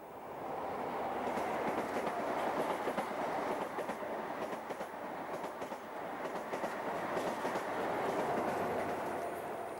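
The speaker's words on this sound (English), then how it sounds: "A high-speed train in the livery of Virgin Trains speeds through" A high-speed train in Virgin Trains livery rushes past, a loud steady rumble and rattle of wheels on track holding for about ten seconds with no voices.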